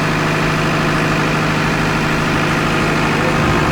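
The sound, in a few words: overhauled Perkins generator engine running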